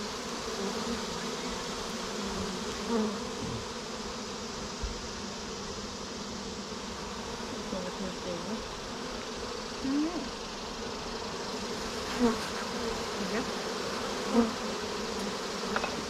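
Honey bees in a crowded hive hum in a dense, continuous drone, close and steady for the whole stretch, with a few louder buzzes as individual bees pass near.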